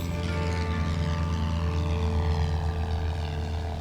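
A light propeller aircraft drones steadily overhead as it flies over the Pyrenees mountains, a continuous engine hum with a throbbing low tone throughout.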